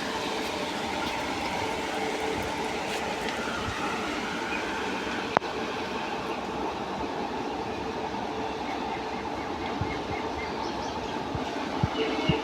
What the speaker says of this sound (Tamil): சோழன் எக்ஸ்பிரஸ் டிப்பாட் ஆயிடுச்சு